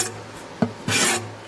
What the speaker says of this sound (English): I've been sanding on this for a while now, and I'm just about done with the removal part of this finish.